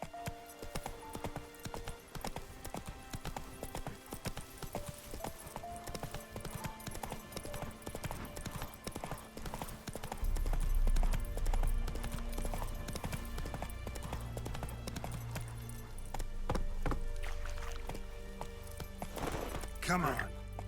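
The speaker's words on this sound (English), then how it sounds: "Come to me, horsey." A horse gallops in The Witcher 3, with rapid rhythmic hoofbeats running under game music and effects, and a low rumble swelling partway through; a snort or whinny is heard near the end.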